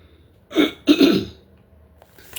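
A woman gives two close, raspy throat clears, the second longer and rougher, in a quiet room, followed by silence.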